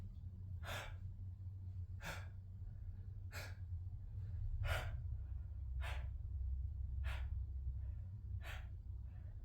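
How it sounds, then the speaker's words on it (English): About seven sharp, open-mouthed gasping startle breaths come at a steady rhythm of roughly one every one to two seconds during a breathing exercise, each a short, loud, airy burst over a low background hum. "open your mouth, bring in the startle breath"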